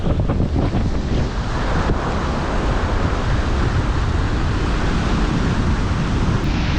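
Steady, loud roar of sea waves and strong wind buffeting the microphone on the coast during a fishing outing, continuous broadband rushing with no talking.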